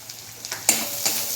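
Chili, turmeric and cumin powders fry in a pan with a soft sizzle, punctuated by a couple of quick scraping stirs over little more than a second.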